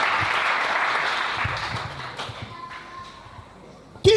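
Church congregation applauding during a Sunday service, a broad wash of clapping that fades gradually over several seconds before a sharp knock at the end.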